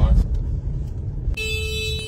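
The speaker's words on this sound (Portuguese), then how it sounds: "Para de buzinar atrás de mim" A car horn sounds a sustained honk behind a vehicle on a road, beginning partway through over low engine and traffic rumble, with a brief voice early on.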